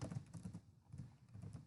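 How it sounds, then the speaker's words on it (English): Typing on a computer keyboard comes as a short run of faint, quiet clicks and taps close by, with a brief pause midway. "I will type that here."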